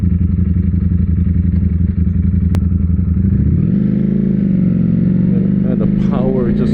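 A Ducati Panigale V4S motorcycle engine running on an up-map exhaust drones loud and close, then rises in pitch as it revs and holds, with a voice speaking over it.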